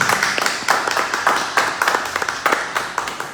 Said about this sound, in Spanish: para quien les pido yo un fuerte aplauso de entrada